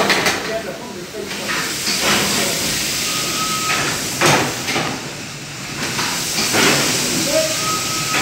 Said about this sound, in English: Well, I've knocked off the steam there now.